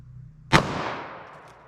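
A single sharp gunshot from a 3-inch .38 Special revolver firing Winchester SJHP through denim and quarter-inch MDF into ballistic gel, loud and close, followed by a decaying outdoor echo.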